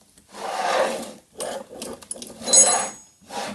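Metal jaw part of a cheap cross-slide drill press vice being slid out along its ways, several rough scraping and rubbing strokes with brief gaps between them, close and fairly loud with no voice.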